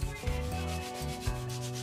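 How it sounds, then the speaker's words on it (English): Sandpaper rubs on the body of a 1/15 scale model race car in steady back-and-forth strokes, close up and partly masked by sustained tonal music. "I find sanding really boring"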